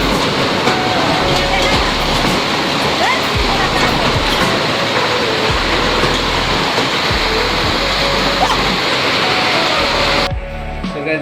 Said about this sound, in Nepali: आजको असिना बारिस बिरटामोडमा